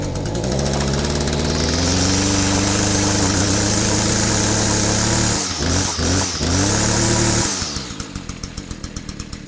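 An Echo SRM-210 string trimmer, just fitted with a new carburetor, fuel lines and spark plug, runs loud and close at a steady high idle, its engine note dipping and revving briefly before settling into a lower, uneven idle.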